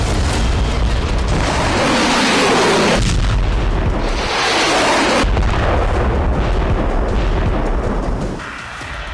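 FAB-3000 bomb explosions in Vovchansk, Ukraine: loud, sustained rolling booms and heavy rumbling blasts, one surging after another before fading slightly at the end.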